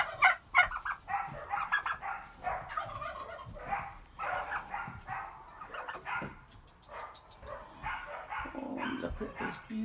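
Rescued turkeys gobble and call close by, a busy run of overlapping gobbles and warbles that rises and falls in bursts, with someone speaking softly now and then.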